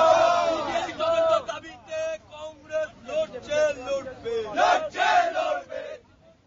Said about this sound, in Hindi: सुदीप्तो की पेशी के दौरान कोर्ट के बाहर गुस्साए लोगों ने जबरदस्त हंगामा किया